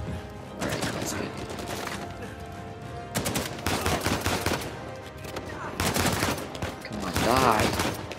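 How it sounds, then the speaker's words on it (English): Gunfire in the video game Uncharted 4 comes in rapid bursts and scattered volleys during a firefight, loud over game music, while a player speaks briefly. "Who's shooting me?"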